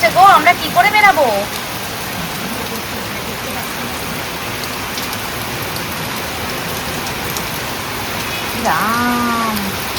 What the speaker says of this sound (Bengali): ইস, এখনো মুষলধারায় বৃষ্টি পড়ছে গো